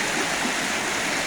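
Steady, close rushing of creek water at Bertsch Creek near Walnutport, Pennsylvania, a dense continuous broadband wash with no pauses and no voices.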